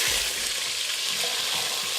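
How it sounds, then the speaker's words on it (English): Steady, close sizzling of about two tablespoons of garlic and ginger frying in a hot pan for kofta curry, a constant hissing crackle with faint scraping stirs underneath. "Can you hear it sizzling away? That's the noise you want to hear."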